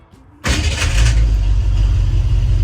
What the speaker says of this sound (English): we're gonna turn the car on